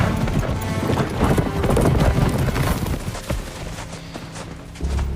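Horse galloping away in a film scene, a dense, loud clatter of hooves under a busy action soundtrack, fading slightly toward the end.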